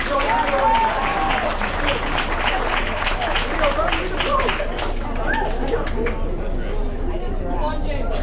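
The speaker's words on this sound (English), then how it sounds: "A big round of applause for him and join me over here" A cruise ship theater crowd claps and cheers loudly for several seconds, a dense steady wash of applause with voices mixed in.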